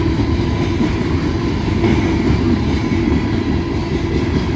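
CSX freight train at night, loaded 8300 series three-bay coal hoppers rolling past close by, a loud continuous rumble and rattle of cars with steady wheel noise throughout.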